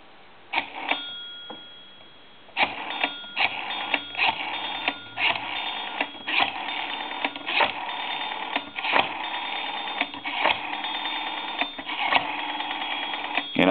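A Western Electric Princess telephone being dialed, giving a run of quick clicks and tone-like bursts in irregular groups over a steady background, close and moderately loud.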